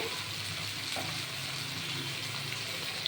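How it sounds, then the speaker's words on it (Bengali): Onion paste frying in a pan for an egg curry with cauliflower, giving a steady, close sizzle that holds at an even level throughout without any talking. "পেঁয়াজ পেস্ট করে রেখেছি একটা পেঁয়াজ সেটা দিয়ে দিলাম"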